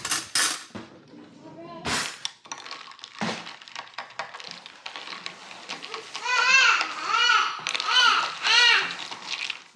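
Spoon stirring iced coffee in a glass, with a run of clinks and rattles of ice against the glass, brief and moderately close, mixed with other kitchen and household noise.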